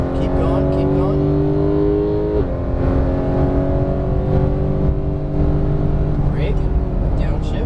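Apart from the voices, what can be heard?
Porsche GT3 991 engine on a racetrack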